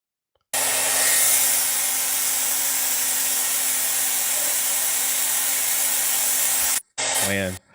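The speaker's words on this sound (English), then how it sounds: "He's got a blow dryer on the fan, all just to play NBA 2K25." A blow dryer roars into the exposed fan of a PS4 with its outer shell removed, a loud steady rush of air for about six seconds that cuts off abruptly, followed by a short burst of other noise.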